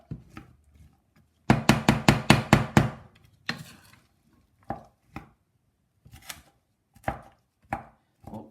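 A knife chops onion on a board for spaghetti bolognese: a quick run of about seven sharp, close knocks, then scattered single chops with pauses between them.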